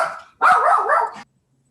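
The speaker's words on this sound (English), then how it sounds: "I'm sorry, that's my dog." A house dog lets out a short burst of loud, close barking, a faint yip followed by a strained, growly bark lasting under a second, then quiet.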